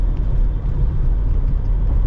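A 1985 Buick Riviera with a small exhaust leak, driving and shifting: a loud, steady low engine rumble and exhaust drone, close and continuous, no voices.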